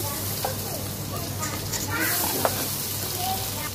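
Ginger-garlic paste sizzles steadily with fried onions in a hot pan, with occasional scraping stirs and a low hum underneath, while someone talks over it.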